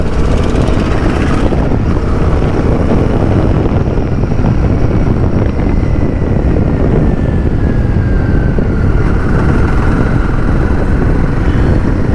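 A 450cc liquid-cooled motorcycle with a six-speed gearbox and slipper clutch rides steadily through its gears, the engine droning loud and constant with heavy wind rush over the microphone and no talk.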